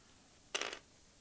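Dice tumble briefly across a board during a Sheepdogs board game, a quick cluster of sharp clattering clicks lasting about a quarter second, close and alone in an otherwise quiet room.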